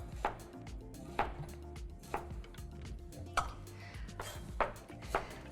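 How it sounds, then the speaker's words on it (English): A knife slices through a leek on a cutting board in evenly spaced, soft, close chops roughly once a second, over a quiet low background with no talking. "we're gonna slice this in half to make it nice and stable and a manageable size. And you just slice across like you did with your onion."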